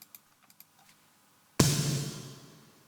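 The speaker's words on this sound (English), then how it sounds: "And with the reverbs," A single gated snare drum hit processed with M200i reverb bursts in loud and bright, its wash sustaining and fading over about a second, after a few faint ticks.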